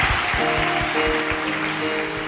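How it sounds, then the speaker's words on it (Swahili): A congregation at a religious gathering claps for Jesus in dense, steady applause that fills the whole stretch with even loudness. "Pe Yesu makofi kabisa."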